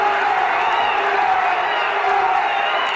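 A large crowd roars and cheers steadily at an indoor junior finswimming championship, a sustained wash of voices holding loud and constant throughout.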